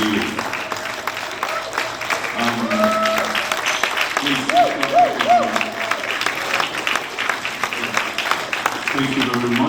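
Book launch audience gives a standing ovation, sustained loud clapping across the whole stretch while voices speak and sing over it.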